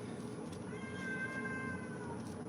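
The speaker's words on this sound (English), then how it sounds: "the cat is meowing" A domestic cat gives a single drawn-out meow, fairly quiet and close, over a low steady background hum with no one speaking.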